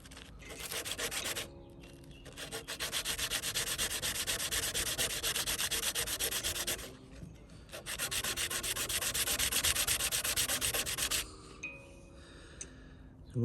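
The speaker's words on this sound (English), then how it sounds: "And with the rough sandpaper" Rough sandpaper scrubbing a tree resin bead in close, steady back-and-forth strokes, running in two long sustained bursts with a short pause between and a few lighter scrapes at the end.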